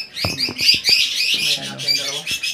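Several caged birds, including personata lovebirds, squawk and chirp continuously, loud and close, with sharp clicks and shrill calls overlapping throughout.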